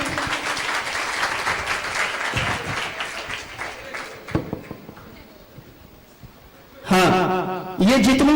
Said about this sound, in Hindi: ये जितनी भी तालियां बज रही हैं